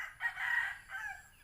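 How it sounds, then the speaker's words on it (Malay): A rooster chasing hens in a backyard kitchen garden gives two faint, strained crowing or squawking calls, close but quiet, with nothing else audible. "Ayam saya bergaduh dia. Dia kejar ayam betina kan."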